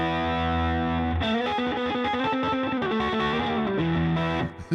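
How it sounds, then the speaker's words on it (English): Electric guitar played through a Koch signature amplifier with its onboard harmonic vibrato engaged, a Univibe-like warble, distorted sustained chords and melodic lines ringing out loud and close with no talking. "On my signature amp, the Koch amplifier you see right here, my signature amp, it has harmonic vibrato on board,"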